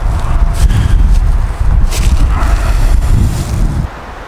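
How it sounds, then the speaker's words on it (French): Strong wind blows across a vegetable garden plot where tomato plants have just been staked, producing steady loud rumbling microphone buffeting with gusty swells and no voices. "Mais vous voyez comme ça bouge avec ce vent là, c'est vachement désagréable ce vent."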